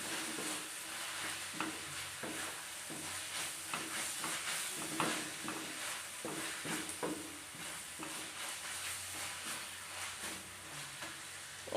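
Onions softening under a lid in a pot for Kerala-style beef curry give a steady close-up sizzle, with repeated scraping stir strokes spread across the whole stretch.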